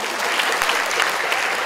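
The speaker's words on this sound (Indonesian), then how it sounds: "Tepuk tangan dong." An audience at a sanitation jamboree talk show breaks into steady, dense clapping that stays even and fairly loud from start to finish, with no speech over it.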